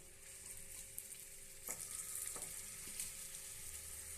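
Banana dough balls frying in ghee in a paniyaram pan give a steady, soft sizzle throughout, with a few light clinks as balls are set into the cups.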